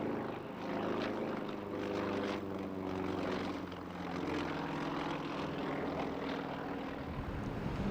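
Light aerobatic propeller plane performing at a British airshow in 1997, with an empty weight of 1,230 pounds and built to withstand 10 G. Its engine gives a loud, continuous droning roar that stays steady throughout, with no voices.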